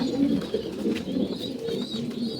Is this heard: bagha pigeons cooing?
yes